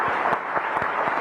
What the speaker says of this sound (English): Please join me in applauding the